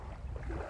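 Steady wind gusting across a lakeshore during float fishing for roach in May, a low broadband rumble and buffeting on the microphone with faint water movement beneath, continuous and fairly quiet.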